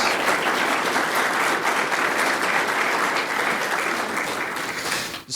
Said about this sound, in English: Round of applause to Chris,